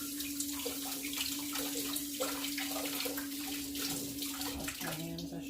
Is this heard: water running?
yes